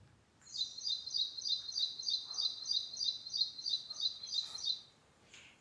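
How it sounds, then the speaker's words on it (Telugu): Sparrows chirp in the morning where grain is put out for them, a fairly close run of rapid, bright repeated calls lasting several seconds and then stopping, with no other sound under it. "నాకైతే ఎంత ఇష్టమో ఈ పిచ్చుకల సౌండ్."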